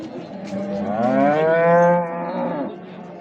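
A cow at a livestock market in Göksun, Kahramanmaraş lets out one long, loud, drawn-out moo that rises and falls, close by over a low background murmur.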